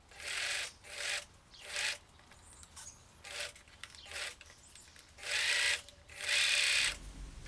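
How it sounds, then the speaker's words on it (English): A sewing machine runs a zigzag stitch along a two-fold hem on a bodycon halter dress, in several separate bursts of whirring and rubbing with brief pauses between them. "The second way is by doing a 2-fold hem, as I'm doing on the screen right now"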